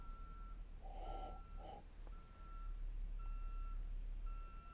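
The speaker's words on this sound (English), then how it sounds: "That thing's been beeping all day." A vehicle's reversing alarm sounds outdoors in a few repeated beeps, steady and moderately distant, over a constant low background rumble.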